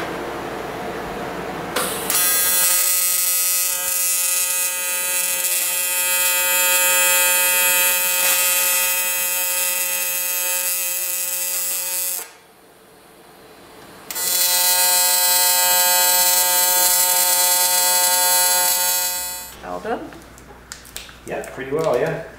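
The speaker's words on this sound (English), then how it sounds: "I got another couple of minutes welding there" Welding on a fish pond overflow modification gives a loud, steady electric buzz that runs for about ten seconds, drops out briefly, then resumes before trailing off, with voices nearby.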